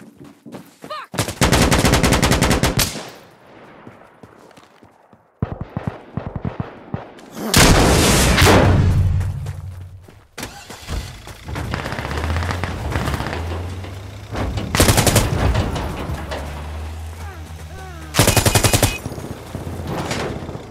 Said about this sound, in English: Using the gun!